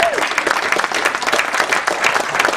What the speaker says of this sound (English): give him a big round of applause for him to do what he's done